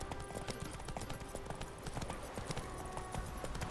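Horse hooves galloping on a road in The Witcher 3, a steady quick clip-clop rhythm that runs throughout, fairly close and even in loudness, with faint game ambience beneath.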